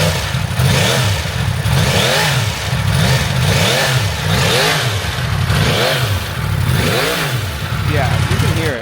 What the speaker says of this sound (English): the cross-plane inline 4 engine. It sounds absolutely amazing.